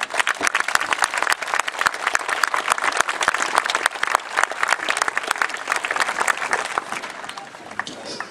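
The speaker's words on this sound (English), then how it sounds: "So give yourselves a round of applause" An audience at a Relay for Life event claps loudly and continuously, dense applause that begins to thin out near the end.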